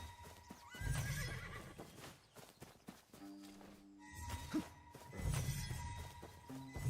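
Horses in the video game Where Winds Meet whinny and neigh loudly in several bursts, with clip-clopping hooves and scattered thuds between the calls.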